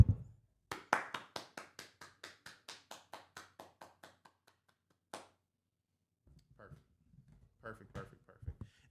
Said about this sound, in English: Clap it up for Lay.